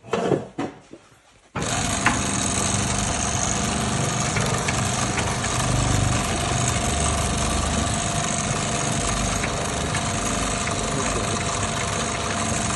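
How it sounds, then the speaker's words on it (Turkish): An industrial double-needle sewing machine with a 750 W electronic motor runs at a steady, loud, continuous drone after a brief quieter start, with no talk over it. "İğne pozisyonlu makinamızı çalıştıralım, sesini duyalım."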